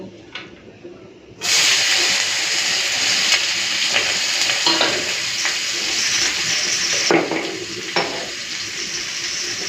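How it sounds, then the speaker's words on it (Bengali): Potatoes drop into hot oil and burst into a sudden loud sizzle after a quiet start, then keep frying with a dense, steady hiss and a few stirring knocks. "তো বন্ধুরা তেল গরম হয়ে গেছে, এখন আলুটা ভেজে নেব।"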